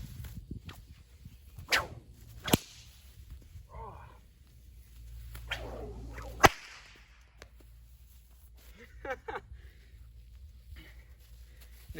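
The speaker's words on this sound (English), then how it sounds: "So we'll get cracking." Several sharp whip cracks ring out alone at irregular intervals, one standing out as a loud snap, with soft swishing and faint footsteps between them and no talking.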